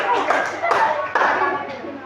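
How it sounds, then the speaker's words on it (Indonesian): Classroom applause for a student group: a short burst of many hands clapping close by, with louder surges of claps and children's voices mixed in throughout. "Sekali lagi, tepuk tangan yang meriah untuk kelompok 4."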